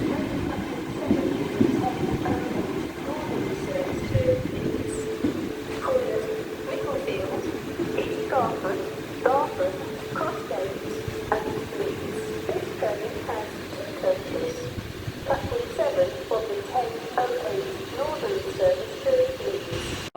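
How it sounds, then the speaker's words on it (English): A Class 195 diesel multiple unit bound for Leeds passes through York station with a steady, loud rumbling drone, scattered mechanical clicks and squeals, and voices murmuring in the background. "Passing is a 195 to Leeds, calling the Micklefieldies, Garth of Crossgates and Leeds."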